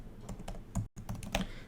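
Rapid typing of code on a computer keyboard, a steady run of close, crisp key clicks with one brief pause partway through.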